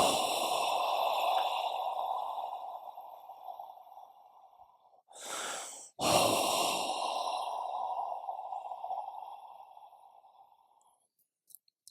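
Slow, deep breaths drawn during meditation, each a long, close, airy exhale lasting several seconds, with a brief sharp inhale between them and no talking.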